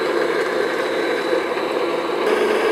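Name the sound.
electric mixer beating pudding batter at medium speed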